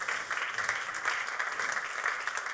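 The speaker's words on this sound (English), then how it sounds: "An applause" Audience at a tourism panel of a strategic forum applauds a panelist with a brief, moderately distant burst of steady clapping.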